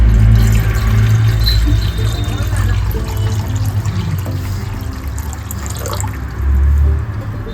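Water pours steadily into a karahi over a lit gas stove, making a continuous close splashing rush that lasts the whole stretch with a slight swell near the end.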